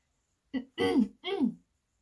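A voice imitates a polite throat clearing, three short voiced 'ahem'-like bursts in quick succession, close and clear against silence, performed in a storybook reading.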